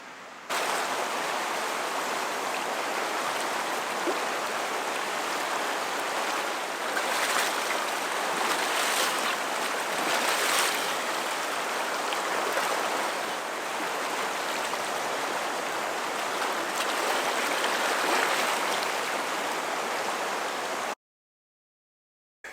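Ice-cold mountain river in Kazbegi, Georgia, rushing in a loud, unbroken roar of flowing water close by, steady for the whole stretch before cutting off abruptly.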